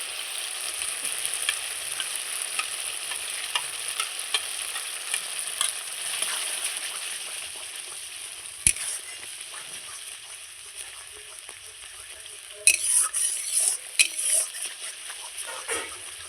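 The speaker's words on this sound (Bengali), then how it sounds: "টক দই দিয়ে খুব সুন্দর করে কষিয়ে নিয়েছি" Spice masala cooks down with sour curd in a pan for a paneer curry. A soft, steady sizzle carries on throughout, broken by a sharp utensil knock midway and a cluster of scraping, clinking stirs later. No one speaks.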